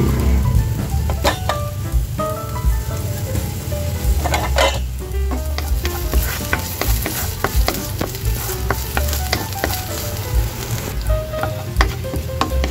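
Ginger sizzles loudly in hot oil in a pan, a dense continuous crackle and hiss with frequent spatula scrapes and clinks against the metal throughout.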